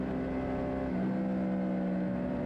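A Suzuki SV650 Super Twin race bike's engine drones on a track, its twin-cylinder note holding steady then shifting pitch as the revs change, moderately distant and alone.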